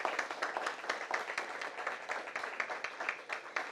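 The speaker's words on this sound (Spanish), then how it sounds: "Un aplauso bien fuerte para Altagracia." Audience applause at a book launch held beside a cathedral, a steady dense patter of many hands clapping at moderate distance, continuous and without talk.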